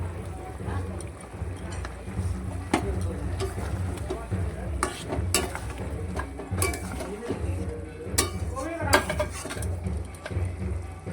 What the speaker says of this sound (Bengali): জলটাকে একটু গাঢ় করার জন্য একটু ময়দা গুলিয়ে দিচ্ছি।